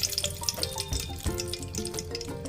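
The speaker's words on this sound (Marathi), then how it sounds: "आपलं तेल गरम झाले व त्यामध्ये आता आपण तेजपत्ता घालून घेऊयात" Bay leaf dropped into about four spoons of hot oil in a pot on a gas stove, giving a loud, continuous close sizzle and crackle with no one speaking.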